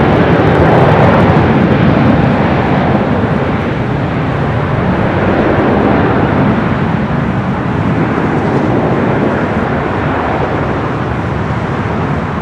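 An Air France heavy airliner arrives on the south side runways at LAX, a loud, continuous broadband jet roar that stays strong and fairly even throughout without pause.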